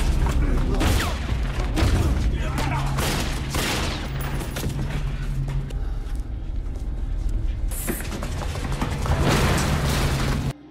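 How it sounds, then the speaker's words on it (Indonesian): Heavy explosive blasts from a film fill the scene with rapid booming bursts, dense and loud, with rumbling debris and chaotic action sounds throughout. "masih untung Doron dan dua rekannya ini selamat dari ledakan"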